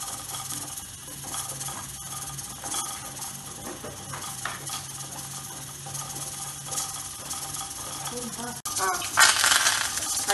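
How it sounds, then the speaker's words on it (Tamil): Mustard seeds crackle and pop in hot ghee, a continuous sputtering sizzle that grows louder and sharper toward the end. "கடுகு வெடிச்சிட்டு"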